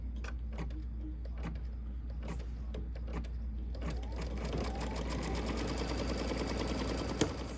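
An embroidery machine stitches the top of a pineapple crossbody bag, its needle hammering in a steady rapid rhythm that grows denser and busier partway through, heard close and alone.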